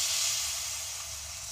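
Batter poured into a hot pan hisses and sizzles in a steady, bright wash of sound that fades slightly over a brief moment, with no voices.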